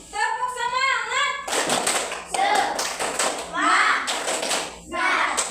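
Schoolchildren in a classroom clap together in quick rhythmic bursts of 'tepuk semangat' hand-claps, loud and close, alternating with a teacher's voice calling out and the class chanting in unison.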